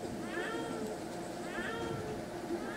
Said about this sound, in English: There's a cat meowing somewhere.